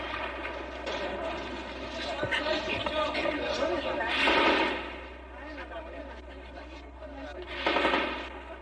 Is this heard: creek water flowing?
no